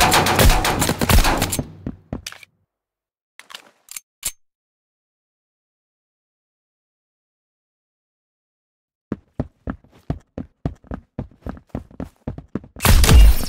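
Rapid gunshots in Roblox Arsenal 2, an opening flurry of loud shots, then silence with a few isolated shots, followed by a quick rhythmic series of about a dozen sharp cracks and a final burst.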